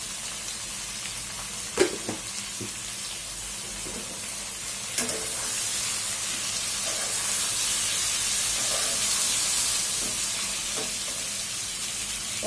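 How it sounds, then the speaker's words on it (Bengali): Pointed gourd pieces fry in oil in a pan, a continuous close hiss and sizzle with a couple of sharp knocks early on and a gentle swell of spitting toward the middle. "পটল ভাজা আমার অনেক পছন্দ"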